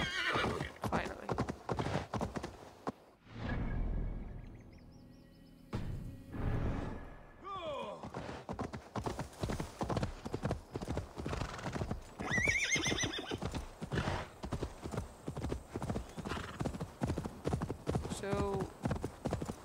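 A horse in Assassin's Creed Valhalla trots with rhythmic clip-clopping hooves and whinnies loudly near the middle. A voice talks over much of it.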